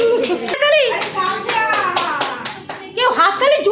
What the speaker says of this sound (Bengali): একটু হাততালি দাও না সবারটা।